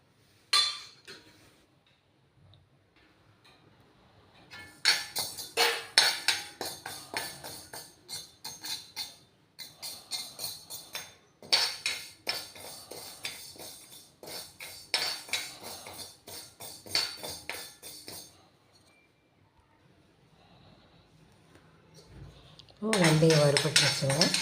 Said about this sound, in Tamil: இதில் இந்த வெந்தயத்தை போட்டு வறுத்து எடுத்துக்கலாம்